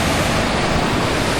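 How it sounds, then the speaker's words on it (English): The River Trent in Nottinghamshire flows past a camping spot, heard as a loud, close, steady wash of water noise filling a short moment, with no talk. "the beautiful river"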